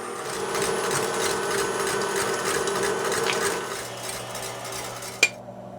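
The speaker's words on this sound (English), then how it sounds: "let's get our egg whites beating because this is gonna take a while" An electric mixer whirs steadily while beating egg whites for meringue, its beaters rattling against the bowl, then the motor cuts off with a sharp click and the sound drops to near silence.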